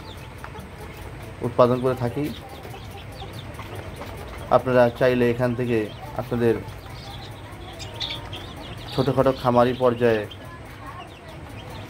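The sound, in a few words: Australorp and Fayoumi chicken chicks peeping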